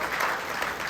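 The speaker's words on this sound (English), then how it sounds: "Yes, give her a round of applause." Audience applause for a storyteller at the Nebraska Storytelling Festival, a steady wash of clapping from a crowd across the full second without any voices.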